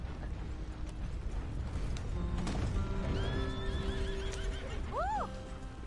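A horse in Red Dead Redemption 2 gives a clear rising-and-falling whinny near the end, preceded by softer neighs and clip-clopping hooves over a low background rumble.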